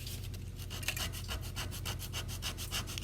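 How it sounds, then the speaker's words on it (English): Sandpaper rubs back and forth over the tip of a wooden popsicle stick, a quiet, close, rhythmic rasp of rapid strokes repeating evenly, with no talking. "I'm going to sand the tip of this popsicle stick into a shape for texturing"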